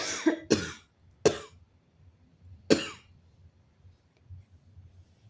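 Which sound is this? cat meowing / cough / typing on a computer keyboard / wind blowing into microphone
cough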